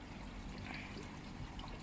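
Water poured from a jug into a koi pond, a soft, quiet trickling and splashing that stays faint and continuous, with no voices.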